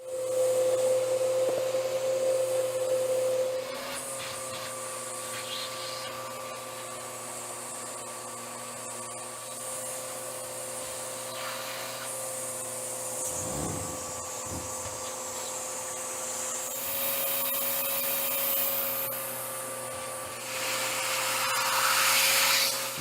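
Vacuum cleaner hose sucking lint and hair out of a clothes dryer vent, a steady close motor whine with shifting airflow pitch as the nozzle moves, broken by brief rattling scrapes and gurgling suction surges.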